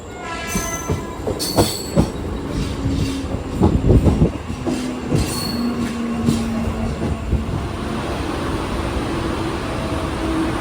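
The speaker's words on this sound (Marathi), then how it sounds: "क्रमांक 2 वर आलेली लोकल चर्चगेटला जाणारी ही लोकल आहे." A Churchgate-bound Mumbai local commuter train rumbles and clatters along a station platform, with metallic squeals and a brief horn over steady rolling noise.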